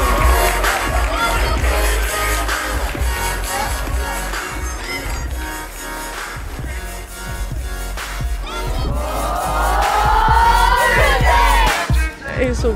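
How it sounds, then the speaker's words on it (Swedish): Loud audience applause and cheering at a recycling fashion show, a dense continuous roar of clapping and shouting that swells toward the end, with music underneath. "Ge dem ännu mer applåd hela vägen ut"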